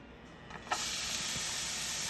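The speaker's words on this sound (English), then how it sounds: "So I add the onions in, and now we will steam them for about 5 minutes." Onions go into a pot for cooking black beans and set off a steady, soft hiss of steam and sizzle that begins after a few faint clatters and continues evenly throughout.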